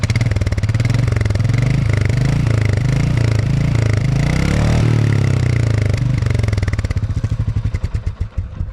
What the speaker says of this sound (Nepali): तपाईँहरूले सुनिहाल्नुभयो यसको एक्जस्ट नोट